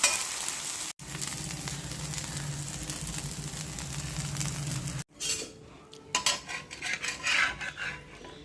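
Dosa batter sizzling and frying on a hot pan after the dosa is flipped, a steady close crackle that breaks off briefly and returns with scraping and shifting sounds.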